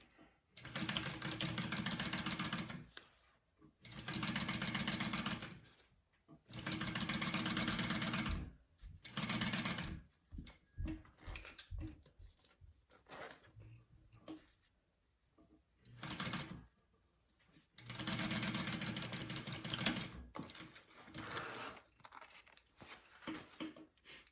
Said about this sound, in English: And sew that on.